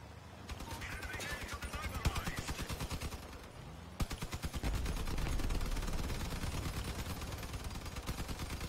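Rapid gunfire in the vehicle combat game Crossout, dense repeated automatic bursts firing almost without pause over engine rumble, with a player's voice talking at times.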